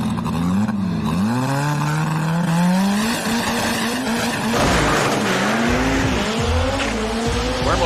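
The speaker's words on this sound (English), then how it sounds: "He hand grenaded that motor. She is stuttering, skidding to the top." A drag race car at a night race roars loudly with a blown motor, its engine pitch swooping and stuttering over squealing, skidding tires, with a dense crowd and track din behind.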